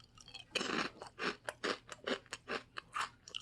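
Someone eats a crunchy Samyang black sugar Jjanggu snack with peanuts, biting down once, then chewing in a steady series of close, crisp crunches with short gaps between them.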